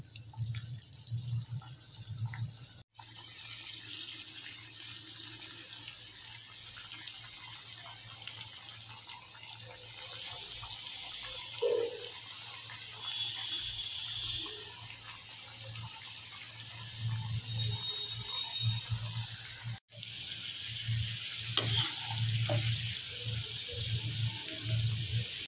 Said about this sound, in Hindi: फिर इन्हें डीप फ्राई करते हैं।